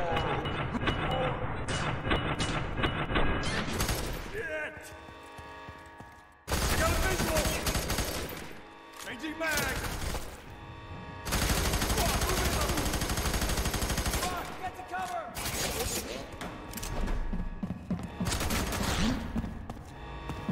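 A video game firefight in a prison-break mission: loud, dense bursts of automatic gunfire and rapid single shots come in long overlapping stretches with short lulls between them, and shouted voices mix in under the shooting.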